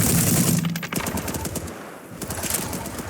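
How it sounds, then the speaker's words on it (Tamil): Machine gun fire in a World War 3 battle video game, rapid bursts of loud shots with dense rhythmic crackling throughout, no talking. "Machine gun."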